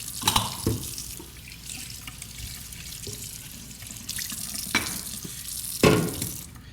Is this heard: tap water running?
yes